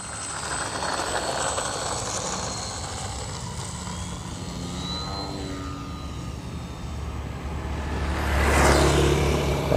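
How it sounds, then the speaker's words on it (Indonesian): Small RC trainer plane, a Mini Ugly Stick with a 90 cm wingspan, taking off outdoors, its buzzing motor steady at a distance and then swelling louder and nearer near the end, with no talk. "Oke, pesawat ready take off."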